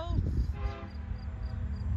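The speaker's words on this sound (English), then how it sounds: "There's BNSF C800 loaded coal train on the Fremont sub." BNSF loaded coal train passing on the Fremont subdivision: a deep, continuous rumble of rolling cars with a brief horn-like tone early on, recorded outdoors with some talking mixed in.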